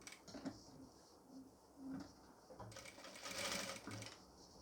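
A sewing machine stitching pleats on a nightie: a quiet, steady mechanical whirr that speeds up and slows in short runs, with light clicks of handling in between.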